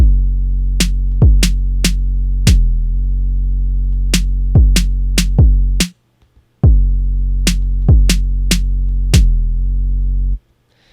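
Trap beat built in Ableton Live with the layered kick removed, leaving deep sustained 808 bass notes and sharp repeated snare or clap hits in a looping pattern, with a brief dropout midway.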